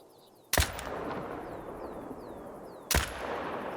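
Two loud, sharp rifle shots from a Zarza-10 .308 in theHunter: Call of the Wild, a couple of seconds apart, each with a sudden crack and lingering outdoor rumble over a quiet wild backdrop with faint birdsong.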